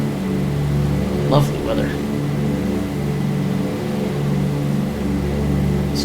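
Twin Douglas DC-3 piston engines at climb power in Microsoft Flight Simulator 2020, a steady loud drone with heavy low hum, while someone speaks briefly over it.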